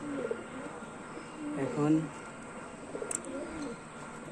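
Pigeons kept in a cage give soft, low cooing, with one clearer coo near the middle, while a person talks nearby over faint background noise.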